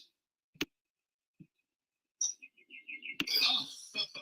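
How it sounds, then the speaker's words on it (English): Bird chirps in a Liberty Mutual TV commercial, a short run of high repeated tweets that come in bursts amid other sounds and voices. "Nice birdie. Yes, he is a very nice bird."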